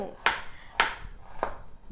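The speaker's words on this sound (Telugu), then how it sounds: "నేను ఉల్లిపాయలను చిన్న చిన్న ముక్కలుగా కోస్తున్నాను." Onions being chopped into small pieces with a knife on a board in a home kitchen: three sharp, close knife strikes spaced about half a second apart, alone with no talk.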